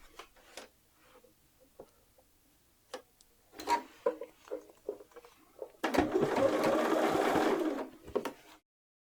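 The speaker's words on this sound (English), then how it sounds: "So I've sewn all the way around the armhole with a 3/8 inch seam allowance." A sewing machine stitches around a dress armhole in one sustained burst of rapid mechanical whirring, preceded by scattered small clicks and handling taps.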